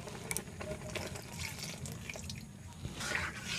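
Coconut milk poured into a pot while making milk semai payesh, a soft, continuous liquid trickle with faint splashes, close and fairly quiet, with no talk.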